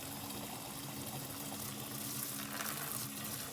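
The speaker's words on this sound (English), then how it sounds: "we're going to aim it right at the barrel and just keep on squirting it into the hole" Water sprays steadily from a hose nozzle into a barrel, a continuous hissing, splashing rush at moderate level with no talk.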